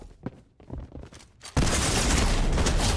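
Frenzy auto shotgun in Fortnite firing in a loud, dense, sustained burst that erupts suddenly after a stretch of quieter game noises and footsteps.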